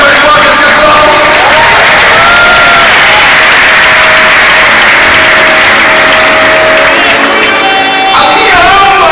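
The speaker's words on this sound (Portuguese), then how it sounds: "Pode ser mais forte esse aplauso?" Loud, sustained applause from a church congregation, with thick clapping, cheers and shouts over an amplified preacher's voice and drawn-out vocal tones, continuing without a break.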